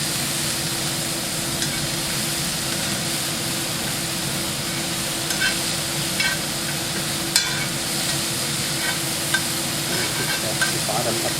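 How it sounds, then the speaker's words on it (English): Onions saute in a pan for Steak Diane, giving a steady soft sizzle with a few faint scrapes and clinks of stirring. "And we're just going to let the onions saute a little bit."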